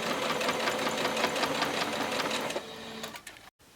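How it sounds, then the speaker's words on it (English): Sewing machine stitching fabric and batting for a bowl cozy, a rapid close mechanical needle rhythm that runs steadily, slows near the end and then stops. "making sure you are sewing the right side"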